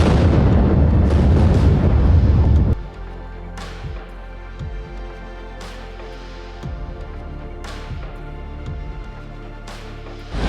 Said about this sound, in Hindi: हमारे सामने ही सुरंग को आगे बढ़ाने के लिए ब्लास्ट किया गया।